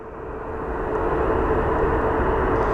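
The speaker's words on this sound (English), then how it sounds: "right behind it, looks like we have an Airbus A321" An Airbus A321 airliner at Phoenix Sky Harbor airport produces a steady, loud broadband jet roar that swells slightly and then holds, with no voices.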